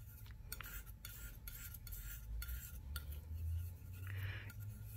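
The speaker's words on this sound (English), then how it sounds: "You want to mix it until it is the consistency of like hand lotion" China paint powder being mixed on a palette makes faint, close scraping and grinding strokes in a repeated back-and-forth rhythm, with no talk.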